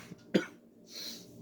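A man gives a single sharp, close cough during a talk about AK-47 magazines, with a fainter breathy throat sound after it and no speech.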